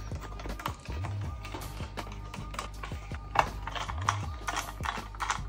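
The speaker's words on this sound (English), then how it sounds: "all that's left to do now is to screw in all of these screws" Screws are driven into an EK-Quantum Vector² Trio water block on an RTX 4090 graphics card, giving close, soft clicking and ratcheting sounds over a low steady hum.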